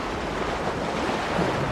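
Surf and wind roll steadily on a beach during surfcasting, a broad continuous wash of waves with gusty wind noise against the microphone, no voices.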